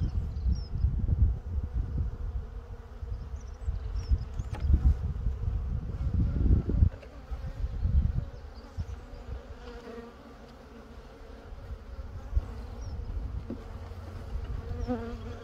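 A queenless honeybee colony buzzing, a dense continuous drone of many bees heard up close, swelling louder midway and then easing to a softer hum.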